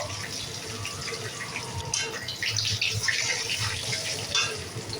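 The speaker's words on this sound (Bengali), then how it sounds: "এবার আমি রসুন কুচিটা দিয়ে দেবো।" Chopped garlic sizzles in hot oil with chopped green chillies for a mixed chow mein, a steady bright crackle with low clatter and scraping underneath.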